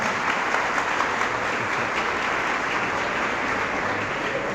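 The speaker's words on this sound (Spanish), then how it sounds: "Aplausos pues para los sacerdotes que también nos acompañan." An audience gives sustained applause for priests at a Catholic gathering, dense steady clapping at even volume throughout, with no voices over it.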